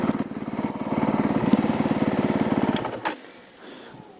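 A Honda CRF450L dirt bike engine thrums with a fast, steady pulsing beat while riding over bumps, loud and close, then drops off sharply after a few seconds to a low murmur.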